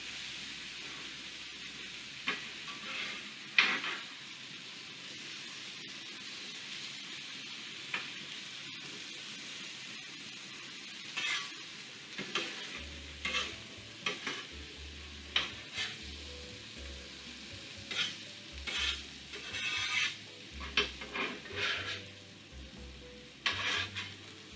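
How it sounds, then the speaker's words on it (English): Potatoes fry in leftover bacon drippings with a soft, continuous sizzle, punctuated by intermittent spatula scrapes and stirring clatter that grow more frequent later on; no talking. "Now we're going to have potatoes cooking in that"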